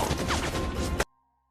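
A film battle scene with a sniper and a special forces team erupts in a rapid volley of close, loud gunshots lasting about a second, then cuts abruptly to silence.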